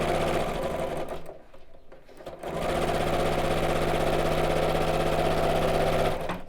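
A sewing machine stitches a cork fabric shopping tote with a quarter-inch seam, running in a steady loud mechanical whir that pauses briefly near the start, then resumes and holds continuously.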